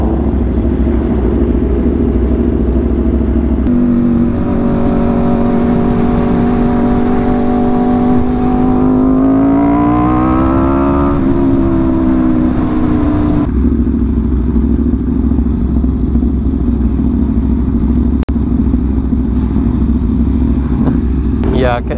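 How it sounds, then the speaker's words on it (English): Two sport motorcycles, a Kawasaki H2 and an Aprilia RSV4, idle close by with a loud, steady engine rumble. The revs swell and ease off once midway through, and the engines carry on without a break. "I can barely hear the H2 over the Ape when it's sitting in idling."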